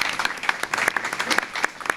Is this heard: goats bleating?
no